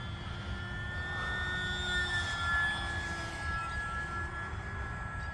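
A small electric E-flite UMX Pitts model plane with a 3S motor whines overhead with a steady high-pitched motor hum, shifting slightly in pitch as it passes, no voices.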